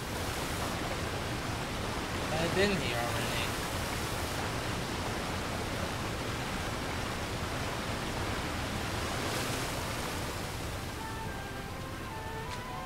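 Rushing waterfall in a video game, a continuous broadband roar of falling water that stays steady throughout, with a brief spoken line near the start and faint tonal game sounds toward the end.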